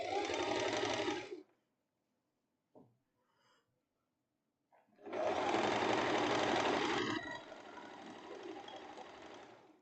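A sewing machine stitches the armhole seams of a crossover tank top in two loud runs, a short burst and then a longer one that eases off toward the end, with quiet handling noises in the gap between.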